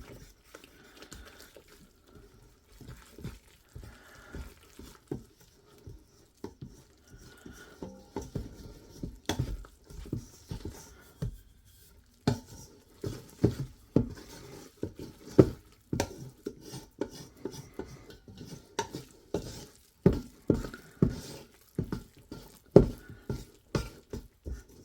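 Utensil stirring and scraping a wet 100% hydration sourdough mixture in a bowl, irregular knocks and taps that grow denser and louder, close-up with no talking.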